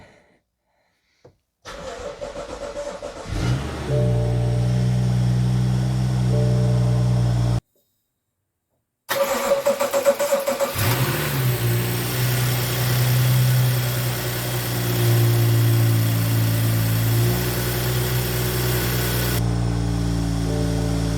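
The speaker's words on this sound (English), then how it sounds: "So we are going to turn the engine on now." A 2016 BMW M235i's 3.0 L N55 turbo straight-six cranks and fires, settles into a steady idle, cuts off briefly, then restarts and idles evenly again, loud and close with no talking.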